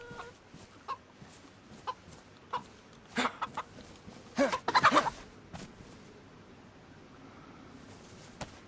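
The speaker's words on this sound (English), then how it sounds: "I hear a chicken" A chicken in the video game DayZ clucks in short, separate bursts with a louder flurry of squawks in the middle, fairly close and with no talking over it.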